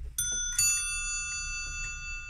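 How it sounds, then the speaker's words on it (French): Two bright metallic bell strikes from a Zenith mantel clock marking the half hour ring out in quick succession, then their clear tones sustain and slowly fade in a quiet room. "La demi-heure, elle sonne sur 2 cloches."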